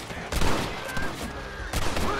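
Gunfire in the western game Red Dead Redemption: a few sharp shots pop out of a busy mix of game sound, with someone talking over it.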